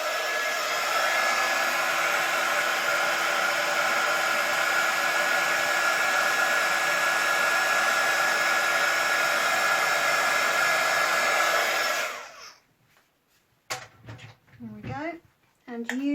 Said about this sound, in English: I will quickly use my heat tool.